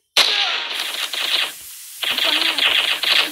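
Rapid automatic gunfire from a PUBG-style battle-royale shooter game, loud and close, coming in two sustained rattling bursts separated by a short lull.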